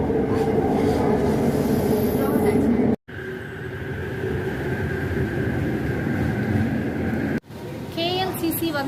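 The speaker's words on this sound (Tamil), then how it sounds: "இப்போ ட்ரெயின் மூவ் ஆகிட்டு இருக்கு." Kuala Lumpur commuter train rolling toward KLCC, heard from inside the car as a loud continuous rumble of wheels on rail with faint squeal, briefly cutting out twice.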